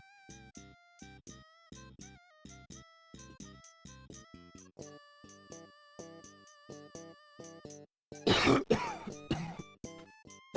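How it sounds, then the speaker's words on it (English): A harsh, rasping coughing fit bursts out loudly near the end, following a run of bright electronic musical tones and chimes, in the game Gabriel Knight: Sins of the Father. "It's a nasty coughing sound as well."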